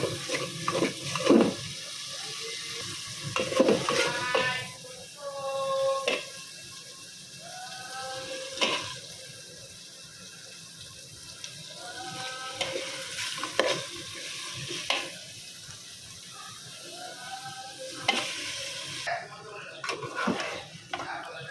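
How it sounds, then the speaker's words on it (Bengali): Meat frying in a spiced masala, being stirred steadily in the pot, with repeated scraping strokes over a soft sizzle, fairly quiet, and occasional faint voices in the background. "এখন আস্তে আস্তে কষায় মাংসটা তারপরে রান্না করে নিই"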